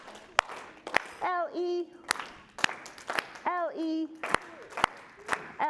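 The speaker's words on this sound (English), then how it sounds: "Okay, 3 claps this time." Three-clap groups at a preschool story time, sharp hand claps in quick sets spaced through a sung letter chant, close and crisp between stretches of a woman singing.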